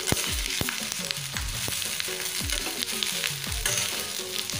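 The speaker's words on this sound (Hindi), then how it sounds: "फिर डालेंगे फरा ला, मिला देंगे चम्मच से" Fara rice dumplings being stirred with a spoon into sizzling tempering in a pan, steady frying hiss with repeated scraping strokes of the spoon, close and continuous, no talking.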